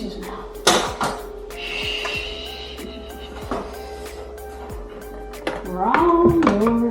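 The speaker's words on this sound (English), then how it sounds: "Just gonna put this on these hinges now." Painted cabinet door being fitted onto its hinges during a cabinet install, with a few sharp knocks and clicks of wood and metal, scraping handling noises and a louder clatter near the end.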